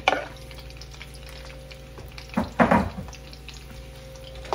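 Tomatoes and garlic sautéing in a pan while crabs with vegetables are cooked, a low steady sizzle with a louder stirring scrape in the middle, no talking.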